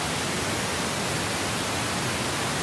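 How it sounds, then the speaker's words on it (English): A continuous pink noise test signal plays for equalization work, a steady, even broadband hiss filling the whole span at constant loudness with no other sounds. "I'm using pink noise because it's got all frequencies"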